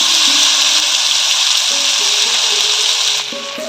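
Green chili paste added to a hot tempering for Bengali vegetarian khichuri, giving a loud, continuous hiss of frying that drops slightly near the end, with no talk.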